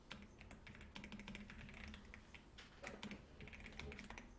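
Quiet, irregular clicking of computer keyboard keys as text is typed into an Excel pivot table, soft and close, with no voices.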